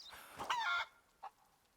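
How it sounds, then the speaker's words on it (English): Chicken clucking in the video game Rise of the Tomb Raider, one squawking burst followed by a short single cluck, close and clear against quiet surroundings. "Sorry, chicken."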